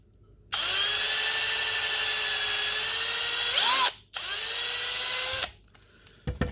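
A power drill whines steadily at high speed, briefly dips and stops, then runs again before cutting off, close and loud, as a 2mm bit bores through a Ford Falcon bumper clip.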